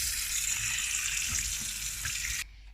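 Tap water pours steadily into a pot holding partly frozen meat, a broad, loud rushing stream that stops abruptly near the end, leaving quiet.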